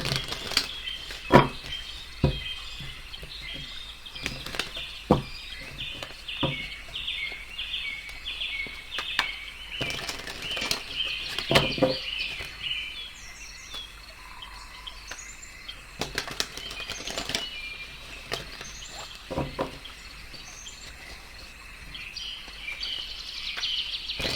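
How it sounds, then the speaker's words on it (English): A deck of tarot cards is shuffled by hand in quiet, soft fluttering riffles and scattered sharp card snaps spread over about twenty seconds, with no speech. "So let's get going with your tarot reading first. I will shuffle them."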